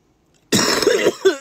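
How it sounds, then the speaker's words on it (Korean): A single throat-clearing cough from a person indoors, close and fairly loud, starting abruptly after a moment of silence with a short second burst at the end. "내가 기침하고 있는데"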